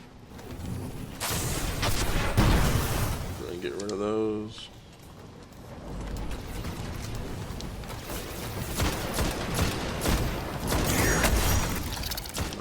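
Heavy gunfire in a first-person shooter video game, bursts of shots and explosions running through most of the stretch, with a player talking over the action.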